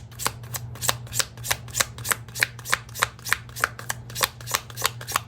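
Tarot cards are shuffled in a steady, rapid riffle of about fifteen crisp flicks, close-up and even in rhythm, with a low hum underneath and no talking.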